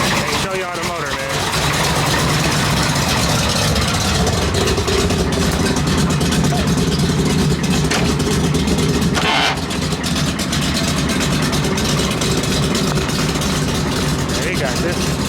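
The engine of a 1963 Chevrolet Impala idles steadily and loudly up close, with a continuous low rumble that barely changes, while people talk over it throughout.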